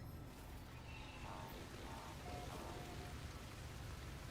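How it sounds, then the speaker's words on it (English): Corrosive rainstorm on a toxic planet in No Man's Sky hisses as a steady, faint wash of rain noise with soft tonal hints, continuous throughout. "Corrosive rainstorm."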